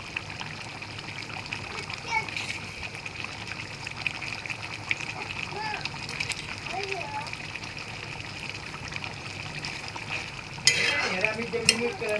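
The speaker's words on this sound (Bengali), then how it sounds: "নাড়াচাড়া করে আমি রাখবো।" Chicken is stirred as it fries in a pan, with a steady low sizzle and occasional splattering and scraping. Voices, including a child's, are heard faintly in the background, and a louder burst of sizzling comes near the end.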